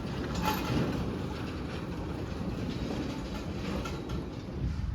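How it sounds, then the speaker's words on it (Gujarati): A small park train in a garden in Mahuva rumbles steadily past with a continuous rolling clatter of wheels, moderately loud and unbroken throughout. "જો મિત્ર, મહુવા બગીચામાં રેલગાડી જાય તો જાય।"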